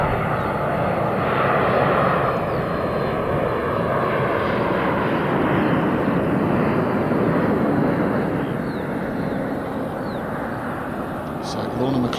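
A fixed-wing airliner approaching to land at Dublin rumbles steadily overhead for twelve seconds, a broad engine roar heard from a seaside golf course beneath continuous commentary.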